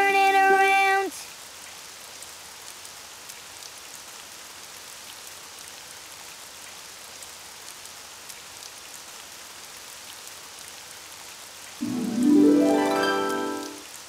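Rain falling outside in a cartoon, a soft steady patter holding on its own through the middle, with tonal music briefly at the start and a voice near the end.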